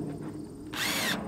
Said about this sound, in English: I'm gonna drill a hole.